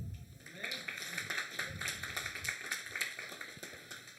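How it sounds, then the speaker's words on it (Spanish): Steady applause from a church congregation, a dense patter of claps that continues evenly for several seconds. "Dale un aplauso a Cristo"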